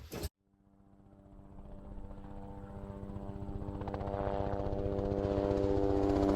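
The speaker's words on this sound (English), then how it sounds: "Here's where my helicopter full of Marines arrives." Recorded helicopter effect for a Vietnam-era tabletop wargame, rotor chop steadily building in loudness as the aircraft approaches, a continuous rhythmic thudding and engine whine with no voices over it.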